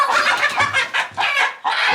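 Chickens being loaded into a movable coop built for up to 100 birds cluck loudly and close by in quick, overlapping bursts.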